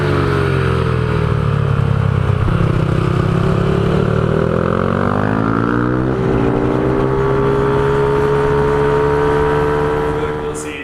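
A 450 dirt bike rides around the Santa Maria kart track, its engine revving and shifting through rising and falling pitches as it accelerates out of corners, loud and close before fading slightly at the end.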